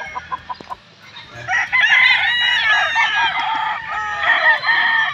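Class AA stag and cock roosters crow loudly nearby, one long cock-a-doodle-doo after a few short clucks, then another crow overlapping it.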